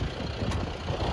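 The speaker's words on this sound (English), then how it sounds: "so I'm getting back in the tractor." Farm tractor engine idling steadily up close on a cold day, a continuous low rumble with no speech.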